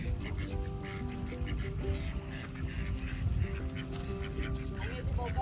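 Domestic ducks quacking steadily in a rural outdoor setting, a busy overlapping chorus at moderate distance over a low rumbling background, with people talking now and then.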